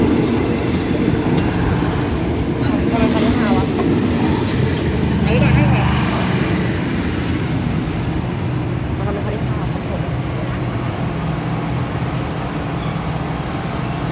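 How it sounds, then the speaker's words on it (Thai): A Thai air-conditioned diesel railcar express pulls into a station platform, a loud, steady rumble of rolling wheels and engine with faint squeals, gradually easing off, while a voice talks over it. "สักครู่รถก็เทียบในจานชาลาทางที่หนึ่งนะครับ"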